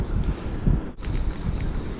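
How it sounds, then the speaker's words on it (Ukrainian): Gusty wind at an urban fishing spot buffets the microphone with a continuous low rumble that briefly drops out before roaring back. "але от вітер розпочав знову дуть."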